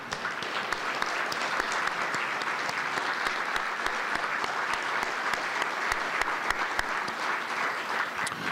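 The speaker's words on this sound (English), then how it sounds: "Kay, would you stand up so everybody can give you a nice round of applause?" An audience at a defense briefing award ceremony gives a sustained round of applause for a woman named Kay, steady and even throughout with no talk over it.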